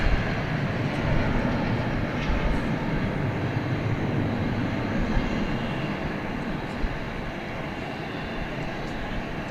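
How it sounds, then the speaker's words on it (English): A UPS McDonnell Douglas MD-11 cargo jet built in 2000, heard at night at DFW Airport as a steady, broad engine roar that holds at a constant level from start to finish. "this is a 21st century, just barely, but a 21st century MD-11, dating back to the year 2000."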